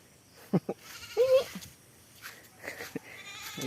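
A goat bleats outdoors, several short wavering calls spread across a few seconds, fairly close, with people talking faintly in between.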